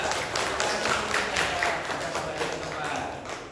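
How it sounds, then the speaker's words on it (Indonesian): Scattered clapping from a classroom of children cheering for Mbak Nanda, uneven bursts of hand claps mixed with background voices and some light thumps. "Tepuk tangan yang meriah untuk Mbak Nanda."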